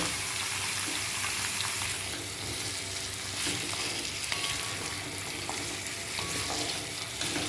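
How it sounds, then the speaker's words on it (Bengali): Marinated mutton frying in oil left over from frying onions, giving a dense, continuous sizzle close by, with occasional light clinks of stirring. "এখন জাস্ট এই পেঁয়াজ ভাজার তেলে মাটনটাকে ভালো করে শুধু ভাজতে থাকবো।"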